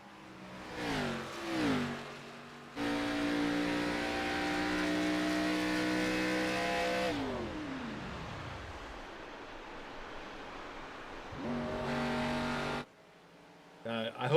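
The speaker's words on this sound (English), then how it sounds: "You hear him turn the car off going into the turn, so he's definitely trying to save some gas." A race car at Darlington drones loudly through a steady engine note, then the engine is switched off going into a turn, its pitch falling away into quiet rushing noise before the engine sound briefly returns.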